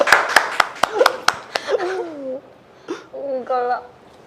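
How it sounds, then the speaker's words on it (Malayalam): About seven sharp, evenly spaced hand claps ring out up close during a live marriage proposal, then stop as people start talking. "കൈയടിക്ക്"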